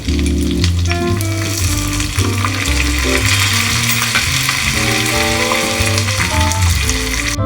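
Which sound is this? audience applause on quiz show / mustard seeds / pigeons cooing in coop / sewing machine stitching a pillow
mustard seeds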